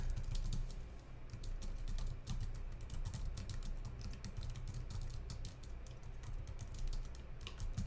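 Typing text on a computer keyboard, a steady run of quick, light key clicks close to the microphone, with no talking.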